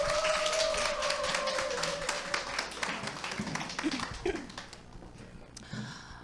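An audience at a one-day business seminar claps to welcome a speaker to the stage, with a dense burst of applause that thins out and fades over several seconds.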